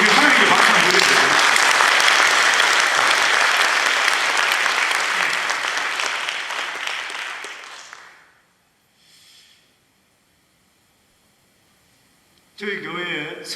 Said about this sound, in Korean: 우리 하나님께 박수 한번 드려주세요.